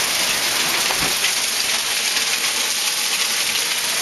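Hail pours down hard and close on a house, a dense, unbroken clatter and hiss of ice pelting surfaces, with no voices.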